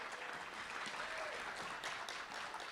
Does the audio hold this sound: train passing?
no